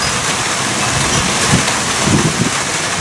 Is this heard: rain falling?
yes